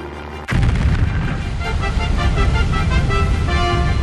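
A sudden loud blast followed by sustained rumbling and a dense wall of sound, standing in for an explosion at the opening of the Panama Canal in 1913.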